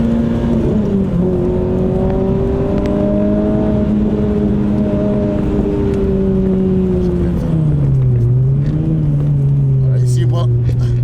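A Renault Clio 3 RS with its naturally aspirated engine and manual gearbox pulls hard near 5000 rpm, a loud, steady in-cabin drone whose pitch rises and falls with throttle, running under continuous talk.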